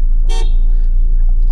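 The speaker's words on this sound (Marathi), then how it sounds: "म्हणजे गाडीच्या हिशोबाने गाडीचा हॉर्न छोटा दिलाय" A Toyota Innova Crysta sounds one short, sharp horn toot early on, loud and close, over a steady low engine and road hum inside the car.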